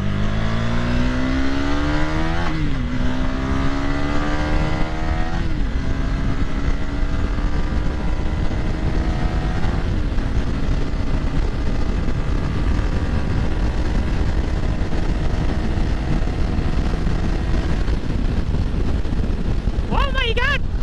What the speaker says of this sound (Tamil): வண்டியோட எக்ஸாஸ்ட் நோட்லாம் செம்மையாக இருக்குது கைஸ்